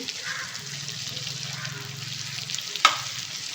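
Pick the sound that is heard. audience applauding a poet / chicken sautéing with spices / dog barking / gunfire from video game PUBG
chicken sautéing with spices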